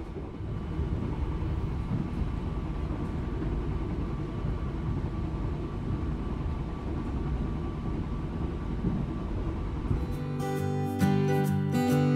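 Steady rumbling interior noise of the KA Ranggajati economy passenger train running at speed, a continuous low hum and rattle throughout, with a sharper burst of tonal, horn-like sound near the end.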